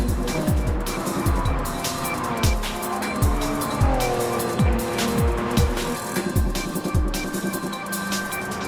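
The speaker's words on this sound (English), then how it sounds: "It'll go up the inside on exit because it has better acceleration, again. And there, Kingsley makes the overtake" Race cars roar through a racing video game, engines revving and downshifting close by while tires squeal repeatedly through the corners, a dense continuous mix with no speech.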